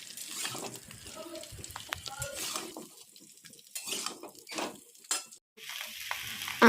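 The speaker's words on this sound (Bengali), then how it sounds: "এবার ভালোভাবে আমি আমগুলোকে একটু ভেজে নেব।" Raw mango pieces fry and get stirred in a pan for a Bengali pickle, with an uneven sizzle, scraping stir strokes and occasional clinks of utensil on metal, close and moderately loud with short quieter gaps.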